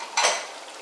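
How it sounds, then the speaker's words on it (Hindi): Tomato paste and crushed green chillies hitting a hot pan for achar gosht, a brief sharp sizzle that flares up and then fades into a soft, close frying hiss. "अब इसे अच्छी तरह भून लेना है।"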